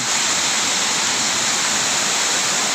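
Le Tong Khu waterfall in Tak province roars as a steady, dense wash of falling water, loud and close, with no voices or breaks.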